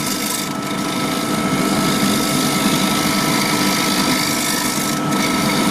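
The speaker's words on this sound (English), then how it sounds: "Full cut with the gouge across, using it basically as a skew scraper." A gouge makes a full cut across a spinning wooden lamp base on a lathe, a continuous close scraping hiss with a steady droning hum beneath it, unbroken for the whole stretch.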